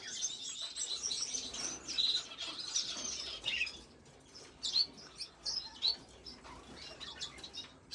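Fife canaries chirping and tweeting indoors, a pair of male and female birds giving bright, quick repeated chirps and short trills, fairly close, with brief pauses between bursts and no talking.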